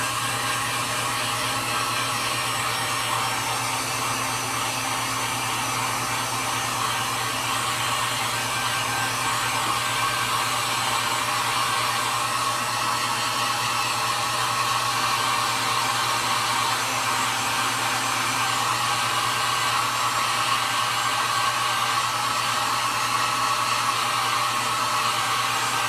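Hair dryer blowing on acrylic paint on a wooden sign, a loud, steady whooshing motor hum that runs unbroken from start to finish, close up and alone without talk.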